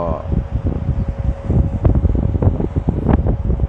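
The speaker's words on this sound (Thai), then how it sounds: "อากาศวันนี้ลมแรงนะครับ" Strong wind blowing outdoors at an excavator work site, a steady rushing buffet of gusts against the microphone, with someone talking over it throughout.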